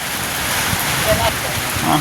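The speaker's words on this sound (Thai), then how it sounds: "ฝนตกพี่น้อง" Steady rain falling outdoors, a loud, dense hiss with scattered patters, continuous throughout.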